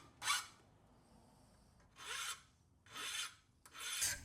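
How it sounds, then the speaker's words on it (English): Hand file clearing a burr from a milled metal edge of a mill tailstock part, four separate rasping strokes, each about half a second, close and clear with quiet gaps between them. "So I cleaned this up with a file."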